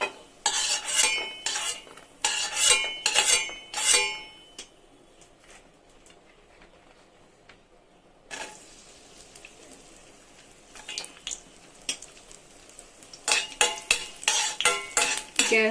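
Raisins roasting in a pan on a low flame for mango kesari, a metal spoon scraping and clinking against the pan in bursts, with a quieter pause in the middle before the stirring resumes, no voices.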